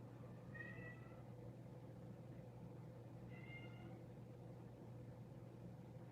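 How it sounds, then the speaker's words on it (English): A cat meows twice, the calls faint and somewhat distant, about three seconds apart, over a steady low hum with no talking. "Oh, cat."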